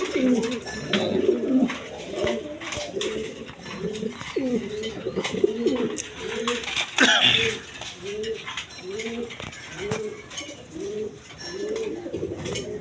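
A pair of blue bar pigeons coo steadily in a loft, giving a regular series of low, rolling coos spaced about a second apart, close and clear, with a brief mechanical rattle midway.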